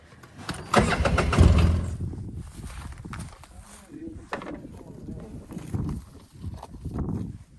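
A Polaris 800 EFI Ranger UTV engine cranks and catches loudly, then settles into a lower running rumble with some clattering, while people talk over it.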